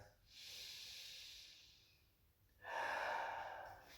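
Slow, close breathing during a chair yoga session: a long airy inhale followed by a stronger, rougher exhale, quiet and alone with no talk.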